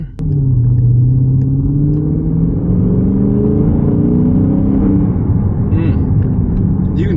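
A 2023 Dodge Charger SRT 392 Scat Pack with a 6.4-liter Hemi engine accelerates hard. The loud, close engine rumble climbs steadily in pitch and then holds, with a voice briefly audible.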